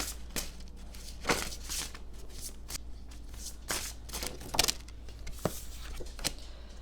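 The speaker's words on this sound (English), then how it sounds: "These cards are so awkward to shuffle, so they might just all go flying at some point." A deck of awkward, oracle-style cards being shuffled during a tarot reading: repeated riffling and sliding bursts with sharper flicks, close and fairly quiet, with no voice.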